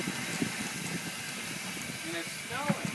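Loud, steady broadband hiss of steam rising from a maple syrup evaporator kettle outdoors in snowy weather, continuous throughout with brief voices murmuring underneath.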